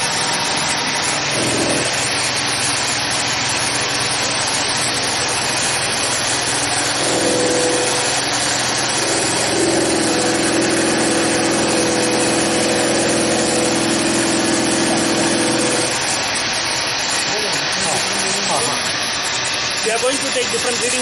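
Kaplan or Francis turbine trainer (model XPO-FLD/KTT or FTT) spinning at 1500 RPM with no load, a steady loud whirring hiss with a faint tonal hum running throughout, near and continuous.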